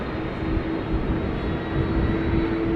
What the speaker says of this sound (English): You're also hearing the engines of the Qatar, possibly.